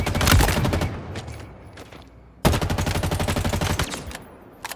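A weapon in Halo Infinite fires two bursts of rapid automatic gunfire with a short pause between them. The shots are loud and sharply spaced, and the second burst is a fast, even stream.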